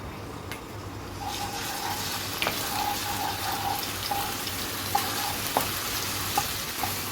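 Steady sizzling of ginger garlic paste frying in hot oil in a pan, a continuous crackle with occasional brief clinks, close and fairly loud, no talking.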